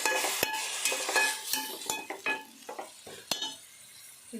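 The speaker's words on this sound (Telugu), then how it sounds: "ఇప్పుడు ఇదంతా బాగా ఫ్రై అవ్వాలి. ఇలా బాగా ఫ్రై చేసుకోవాలండి." Masala for chicken biryani stirred and fried in a pan, with a spoon scraping and clinking against the metal in quick strokes over a steady sizzle, close and fairly loud.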